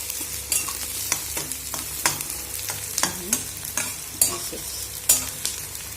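Bombil fish fry with onions in a pan, a soft continuous sizzle broken by repeated sharp scrapes and clacks of a spatula stirring, close and without talk.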